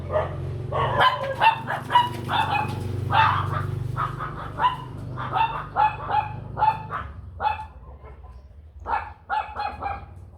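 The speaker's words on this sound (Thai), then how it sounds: "วิ่งไปเห่า" A house dog barks repeatedly at passers-by in front of a home, with loud, close, irregular bursts of barking over about ten seconds and a low hum underneath.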